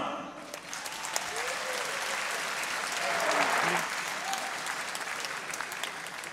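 Crowd applause at a World Series of Boxing bout as the red-corner boxer is introduced, sustained clapping that swells around the middle and carries on under faint background voices.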